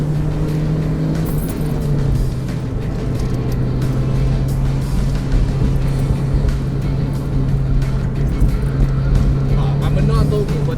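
An NB Mazda Miata drives a winding canyon road, its engine droning loud and steady from the cabin with shifting pitch and constant road noise, and people talking over it.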